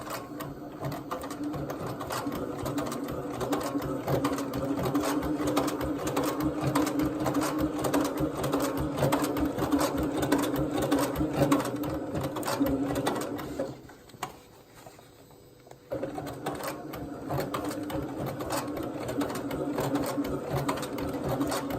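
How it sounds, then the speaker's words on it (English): A SEWPRO 204 compound feed sewing machine stitching through three layers runs in a fast, steady mechanical chatter, close and continuous, with a brief stop partway before it starts up again. "here we're sewing over like 3 layers."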